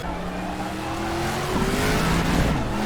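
Group 5 Greenwood Corvette in RaceRoom at Bathurst slides with squealing tires over a loud, rising engine drone, the pitch climbing steadily as it holds the slide.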